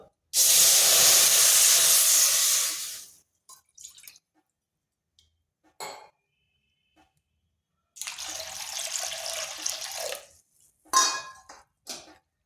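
Water splashes from a bowl into a pot in two separate pours while making Mukhshola pitha, each a loud close gush, with quiet clinks and small drips between them.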